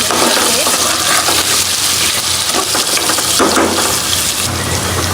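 Water is poured into a pot of potatoes and chicken, a loud continuous splashing gush that pauses briefly and then resumes.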